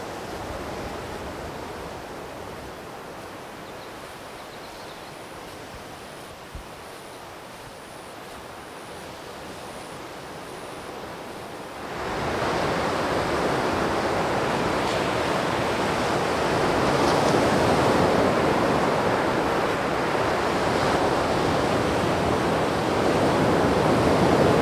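Ocean waves on an East Arnhem Land beach give a broad, continuous surf roar that swells louder halfway through as breakers wash in, with some wind buffeting and no talk.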